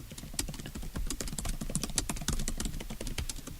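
Rapid keystrokes on a computer keyboard as a password is entered, a dense, steady patter of close, crisp clicks running continuously without pause.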